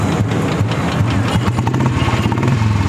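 An old Royal Enfield Bullet motorcycle with a modified engine idles close by, a loud, low, steady thump that keeps an even rhythm after starting.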